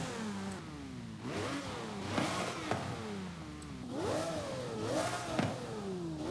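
Upgraded drift car engine in a racing video game, revving repeatedly in rising and falling surges with a raspy tone, several throttle blips across the stretch, no talk.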